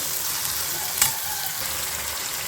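Tomatoes sautéing with salt in a pan for a dried-fish thokku, giving a continuous dense sizzle with one brief scrape of stirring partway through and no talk.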